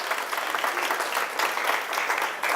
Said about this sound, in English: That's a nice round of applause